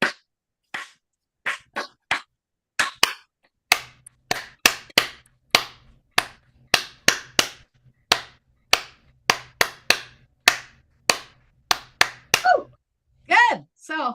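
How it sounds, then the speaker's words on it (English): A group claps in rhythm over an online call during a laugh therapy session, sharp separate claps in loose, slightly out-of-sync bursts, close and distinct against silence between. "if you want to unmute so we can hear the clapping"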